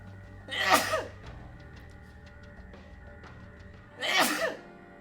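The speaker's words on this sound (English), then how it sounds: "Okay, maybe I was wrong about not sneezing from the pollen." Two loud sneezes, about three seconds apart, stand out clearly against a quiet background, each one a sharp burst that fades quickly. They come from a person reacting to pollen during a Persona 5 Royal game session.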